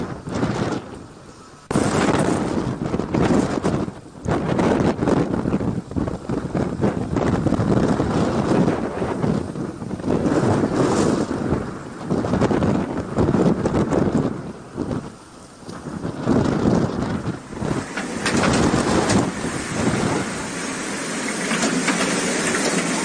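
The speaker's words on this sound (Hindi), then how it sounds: "हवाओं का शोर आप सुनिए, आपको अंदाजा लग जाएगा कि कितनी तेज हवा चल रही है।" Strong wind roars during a dust storm with rain in Delhi, loud gusty buffeting that surges and dips repeatedly over the microphone, with heavy rumbling bursts and no speech.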